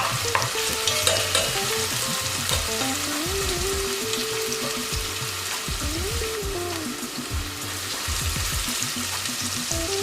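Beef for rendang fries and browns in a pan with cumin, a steady sizzle broken by repeated stirring and scraping of a utensil, close and continuous with no talking.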